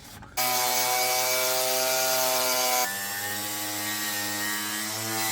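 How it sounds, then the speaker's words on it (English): Wire wheel on a grinder scrubbing factory adhesive off the inside of a Nissan 240SX car panel, a loud harsh whirring grind starting abruptly, shifting tone midway as pressure changes, close and continuous. "on the inside here with a wire wheel and try and grind out all of the adhesive"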